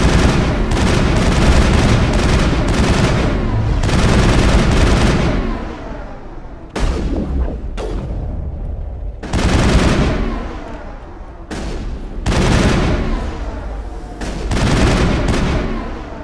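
Turret gunfire in the video game Mass Effect, loud sustained bursts of rapid shots broken by brief pauses, with booming impacts running through the stretch.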